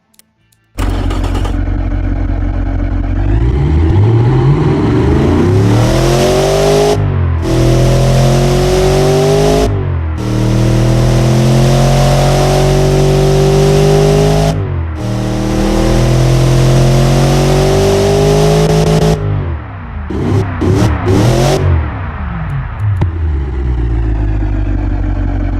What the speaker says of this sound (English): The engine is very responsive, and yes, it's a little bit noisy because sport exhaust system.